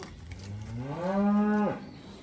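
A single long, low moo rises and then cuts off from an Angus or Charolais cow held in a pen among a sorting herd. The call is close and clear over quiet background.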